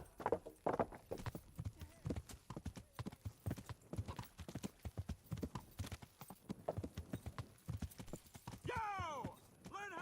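Horse hooves clip-clop in a steady, brisk rhythm while riding in the video game Kingdom Come: Deliverance, close and distinct, with a horse whinny near the end.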